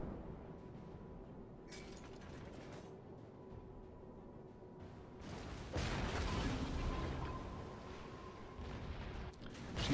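Naval artillery from warships in World of Warships, heavy booming salvos rumbling in a continuous low roar with a louder surge midway, over a steady game soundscape.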